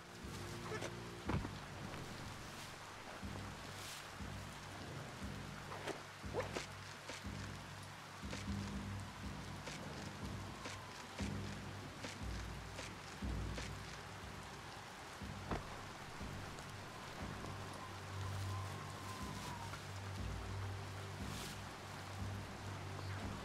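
Rain begins falling in Biomutant, a soft, steady patter of drops spread evenly across the whole stretch, quiet and constant with occasional faint knocks and game ambience beneath.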